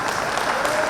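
At a business conclave, an audience gives a burst of loud, dense applause.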